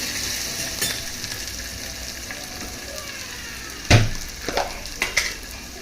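Crushed chili paste sizzles and fries steadily in a pan while kadhi is being cooked, with a few spoon stirs and clinks against the pan near the end.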